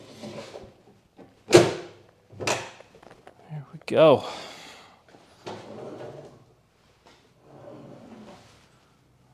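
An undermount drawer on a wooden craft table is fitted and slid shut, giving several separate knocks and thuds with brief sliding rubs between them, while someone talks briefly in between.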